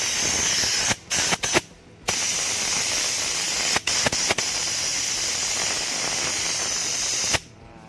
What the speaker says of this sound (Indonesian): setelah itu kita semprot menggunakan kompresor